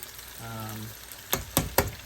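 Shrimp dropped into hot oil in a small pot give three sharp, close sizzling bursts in quick succession, each fading fast, after a brief low voice murmur over faint background frying.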